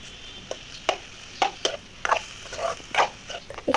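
Pork frying in a pan with onion, chili, and ginger-garlic paste, with intermittent scraping and stirring clanks over a low sizzle, close and fairly quiet.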